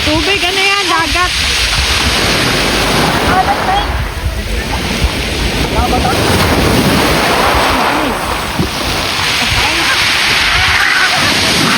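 Sea waves wash along a beach in a broad, steady roar with wind buffeting the microphone, while people talk and call out over the surf throughout.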